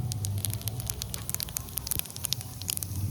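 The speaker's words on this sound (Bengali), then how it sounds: "তার জন্য দিয়ে দিচ্ছি জিরে ফোড়ন" Cumin seeds tempering in hot oil for a village-style curry of fresh river boal fish, a steady close sizzle with dense crackling spits and pops throughout, no voices.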